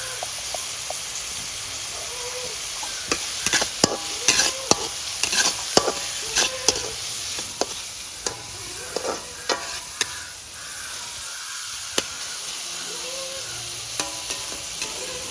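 A pan sautéing for egg kothu gives a continuous sizzle and hiss, broken by frequent sharp clinks and scrapes of a spatula against the metal, close up and with no voices.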